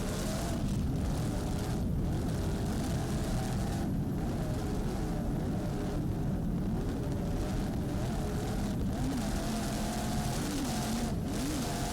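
Helicopter filming a Super Cat powerboat race off Cape Cod, its engine and rotor a continuous loud roar mixed with the deep drone of racing boat engines, steady throughout with no talking.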